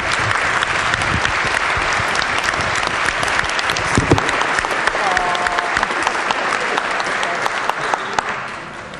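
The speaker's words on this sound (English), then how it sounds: "So if you guys would just give him a round of applause for everything he's done for me." A crowd in the West Virginia Legislature chamber gives a long round of applause, dense and loud throughout, with a few voices mixed in before it fades slightly at the end.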